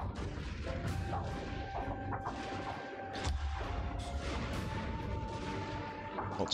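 Cannon fire in a Total War video game battle: repeated booming shots and crashing impacts over a dense, continuous battlefield din, loud and busy throughout.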